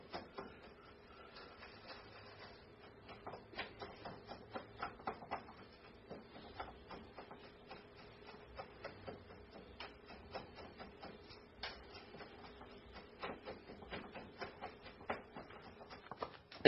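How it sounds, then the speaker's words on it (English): Eggs and cream with bread are whisked in a bowl, producing rapid, faint, irregular clicking and tapping strokes that continue steadily throughout, close but quiet. "we're going to just go ahead and whisk this up real quick"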